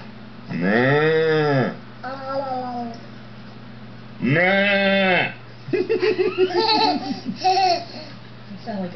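A person imitates a goat with two long, quavering bleats, followed by shorter wavering bleat-like vocal sounds and a brief laugh.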